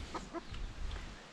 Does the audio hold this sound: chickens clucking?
yes